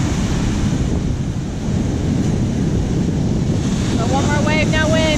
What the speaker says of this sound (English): So I'm gonna let these big waves come in really quick.